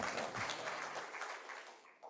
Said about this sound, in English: I must demand some claps